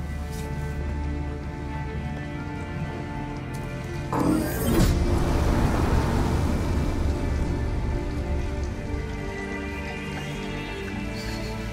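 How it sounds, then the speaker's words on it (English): Heavy pouring rain in Detroit: Become Human hisses steadily as a dense wash, swelling louder for a few seconds midway with a rumbling surge, with no voices over it. "Exhausted and it's pouring rain."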